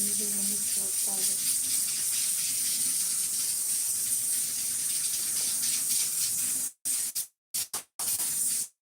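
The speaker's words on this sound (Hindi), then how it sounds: "इसमें थोड़ा सा पानी डालेंगे, ज़्यादा नहीं" Water poured from close by into a cooking pot holding potatoes and onions, a sustained hissing splash that lasts several seconds, with brief speech at the start, then cuts off in short bursts.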